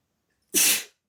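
A single sharp sneeze, close and loud, bursting out suddenly and fading within half a second against silence.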